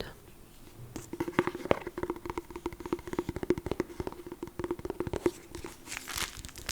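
A plastic packet of Kuhn fried onions is crinkled and handled up close, giving steady crackling and rustling bursts in a quick, uneven rhythm for several seconds, with no talking.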